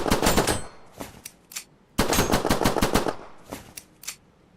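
Pistol fire in a video game built with GASP 5.5 and ALS weapon systems, two quick volleys of rapid close shots separated by a short pause, followed by sparse clicks and metallic reload sounds, with no speech.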